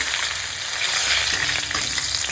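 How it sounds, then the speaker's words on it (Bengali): Green chillies and a small pinch of panch phoron frying in leftover fish oil, a steady dense sizzle close up with faint stirring and no voices. "এখন ওই মাছের তেলের মধ্যে কাঁচা লঙ্কা দিয়ে দিলাম আর দিয়ে দেবো একটুখানি অল্প করে পাঁচ ফোড়ন"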